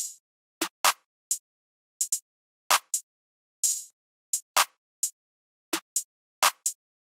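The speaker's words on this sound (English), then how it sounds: "I just had this basic openhat pattern on the 1," A basic open hi-hat pattern using a sample called favorite hat, landing on beats 1, 3, 5 and 7: airy, sizzling hits with short tails, some in quick pairs, repeating alone with no other sounds.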